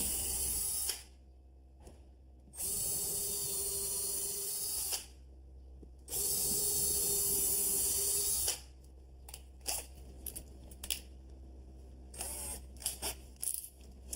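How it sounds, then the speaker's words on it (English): Two long bursts of a power drill whirring steadily as it drills holes in a floor, each a few seconds, separated by pauses, followed by scattered clicks and handling noises. "First thing I want to do is drill a couple of holes."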